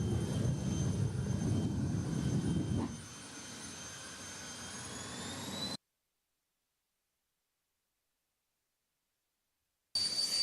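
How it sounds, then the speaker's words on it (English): A jet car starts up at a drag strip, giving a loud roaring jet engine rumble with a rising whine. The roar drops back to a high steady whistle, cuts to silence, then briefly returns. "Chuck Hayes getting that jet car going"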